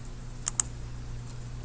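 Two crisp clicks of a computer keyboard, a pair of quick keystrokes in a quiet room with a low hum behind.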